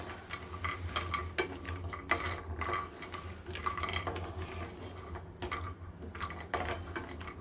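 Cashews and other ladoo ingredients for methi dink ladoo are dry-roasted in a pan, giving quiet, continuous clattering and scraping of a stirring spoon against metal, with no speech.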